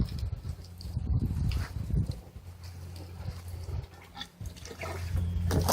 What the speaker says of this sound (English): Now I know it's draining out like this